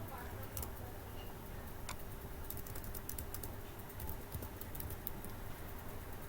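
Faint, irregular clicks and taps of keys being pressed on a computer keyboard, quiet and close, with a soft voice murmuring in the background.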